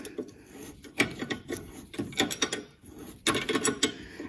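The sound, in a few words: ratchet undoing a bolt while replacing VW Polo brakes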